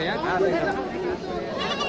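Goats bleat among a busy crowd at the Tebaria goat market in Natore, their calls rising over steady close-range chatter and people talking throughout.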